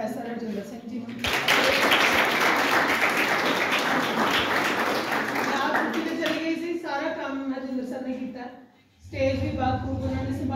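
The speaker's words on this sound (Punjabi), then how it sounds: "ਇਹਦੇ ਲਈ ਤਾੜੀਆਂ ਵੱਜਦੀਆਂ ਪ੍ਰੋਫੈਸਰ ਰਜਿੰਦਰ ਸਿੰਘ ਜੀ ਨੂੰ" A college audience applauds Professor Rajinder Singh after a lecture, with a loud sustained burst of clapping that tapers off as a voice speaks over the end.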